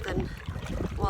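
A canoe is paddled on a lake during a solo trip in Temagami, with soft water swishes and low wind rumble close to the microphone and a voice murmuring faintly underneath.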